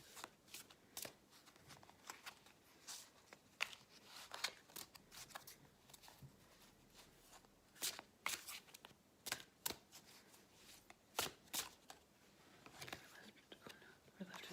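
Large tarot cards are shuffled by hand in a quiet ASMR setting, producing a soft, irregular run of close, crisp riffles and flicks with brief louder snaps, and faint whispering heard in places.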